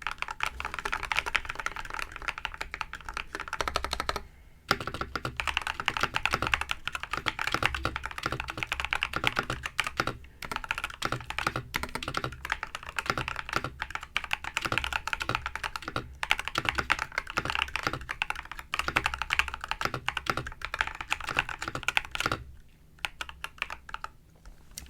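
Steady typing on a mechanical keyboard, with quick continuous clacking keystrokes up close and two short pauses where the clatter briefly stops.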